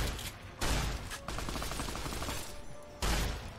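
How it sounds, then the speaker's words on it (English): Heavy machine gun fire in the video game Fallout comes in loud bursts of rapid rattling shots. Two sharp, booming volleys stand out from a busy backdrop of continuous gunfire. "Oh, you have a heavy machine gun,"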